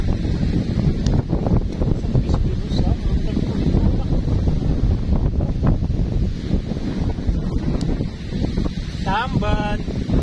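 Strong wind from Typhoon Kiko buffets the microphone out at sea off Anda, Bohol, a constant loud roaring rumble with gusty bursts, and a voice speaks intermittently beneath it.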